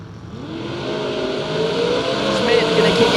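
A Ford Mustang and an S-Dime drag race car launching at a footbrake drag race, a loud sustained engine roar that builds steadily as the cars accelerate away.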